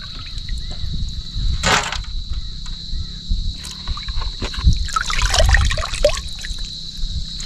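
Red pomfret fish rinsed in water in a village setting, with trickling and splashing water rising through the middle and back half of the clip over steady low background noise.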